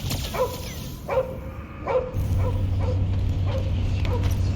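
Cosmo the dog from the Guardians of the Galaxy video game gives a run of short barks and yips, about six spaced bursts, over a steady low rumble of game action.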